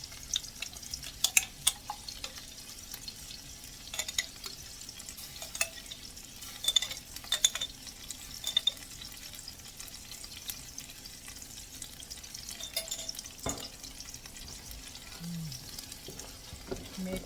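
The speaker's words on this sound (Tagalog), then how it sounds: "Pagkatapos ng bawang at sibuyas na igisa, bagoong naman ang ating ilagay." Bagoong sautéing with garlic and onion in a pan for kare kare, a steady close sizzle and fry with occasional scrape-and-stir clinks throughout, no talk.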